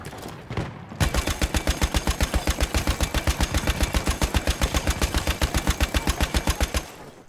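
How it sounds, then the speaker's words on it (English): Rapid sustained bursts of anti-aircraft gunfire in the World War I shooter game Battlefield 1, loud and steady at a fast even rhythm for about six seconds after a brief quieter lead-in, with no talk. "Look at how they're using AA now."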